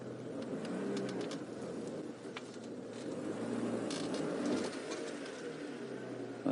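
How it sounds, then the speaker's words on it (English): Birds call and coo in the African bush on an afternoon safari game drive, a dove-like cooing repeating steadily at mid distance over the low rumble of an idling vehicle. "Now I can hear the birds calling now."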